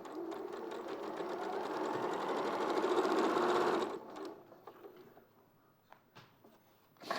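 A sewing machine runs steadily for about four seconds while stitching round a curve, then stops, leaving faint handling clicks and taps.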